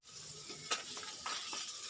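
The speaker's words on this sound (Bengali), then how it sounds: "এখন চুলায় মাছ ভাজতেছি, মাছটা প্রায় ভাজা শেষ হয়ে গেছে।" Pangas fish frying in a pan on a stove, a steady soft sizzle with a few brief crackling pops, close and fairly quiet, no talk.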